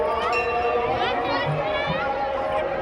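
A dense crowd at the Kali temple fair in Kadi Bigha, Nalanda, Bihar Sharif, with a constant close, loud babble of many voices and footsteps and no gaps.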